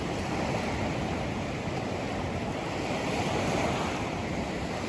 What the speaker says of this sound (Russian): Волны красивые, вот они у нас сюда выливаются.